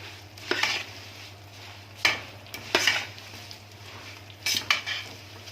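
A utensil scrapes and stirs wide-shredded coconut toasting in a dry pan, a few soft clinks and scuffs spaced out over a low steady hum, close by and fairly quiet.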